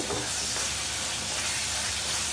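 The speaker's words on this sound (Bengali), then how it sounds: "টমেটো কুচিগুলো দিয়ে আমি ভালো করে নেড়ে চেড়ে" Chopped tomatoes hit a pan of cooked spice paste for a fish chorchori, raising a loud, dense, steamy hiss that holds steady throughout.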